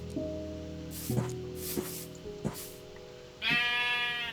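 Minecraft sheep bleating in the video game: several short, wavering bleats spaced apart, then a louder, longer bleat at the end over a steady game background tone.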